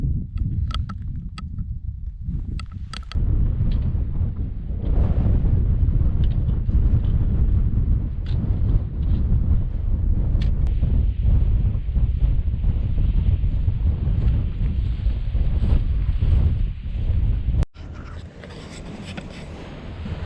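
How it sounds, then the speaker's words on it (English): Strong wind roars and buffets the microphone in a steady, gusting rush on the summit of Canisp in Assynt, with no voices. "It's really windy"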